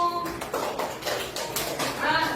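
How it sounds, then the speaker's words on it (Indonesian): Children in a classroom clap their hands together for a classmate, a quick burst of overlapping claps mixed with young voices. "Tepuk tangan untuk Danu."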